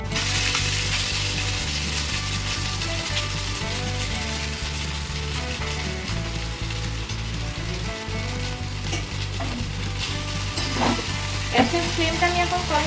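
Chowmein stir-fried with onions in a pan over a gas flame, a loud continuous sizzle broken by repeated scraping and clanking of the spatula against the pan in an uneven rhythm.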